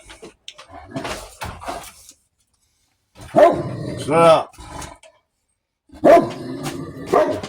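A dog barks in a few loud, close bursts outdoors, separated by quiet gaps, with a voice briefly speaking between them.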